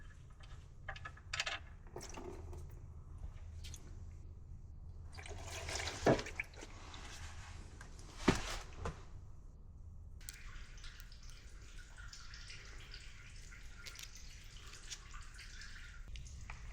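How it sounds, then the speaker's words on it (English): Engine oil from a 2022 Mitsubishi Outlander PHEV drips into a drain pan, a few scattered soft drips with two sharper splashes standing out, over a quiet steady background. "the oil is down to just a drip"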